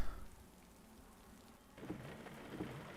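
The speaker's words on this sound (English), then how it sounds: "You can just hear how rainy it actually is." Rain in the Assetto Corsa Competizione racing game at Brands Hatch falls as a soft, steady hiss of drops with a few faint patters. It stays quiet throughout and plays alone with no talk.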